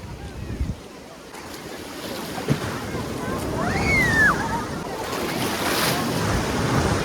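Surf from large ocean waves at Puri beach washes in continuously and builds in the second half, mixed with wind noise on the microphone, while people talk and a brief whistle-like tone rises over the roar.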